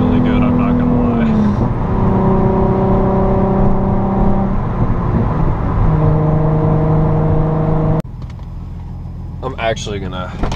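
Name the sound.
Nissan 350Z Nismo engine while driving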